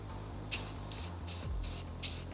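An aerosol can spray-paints a base coat onto a rifle suppressor outdoors, five short hissing bursts in an uneven rhythm, fairly quiet, over a low background hum.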